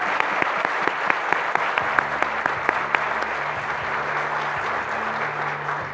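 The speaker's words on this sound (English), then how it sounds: "Let's give everybody one more big round of applause" An audience at a Teacher of the Year celebration breaks into a big round of applause, dense, continuous clapping with a few sharp claps standing out, filling the hall, and a voice speaking faintly underneath.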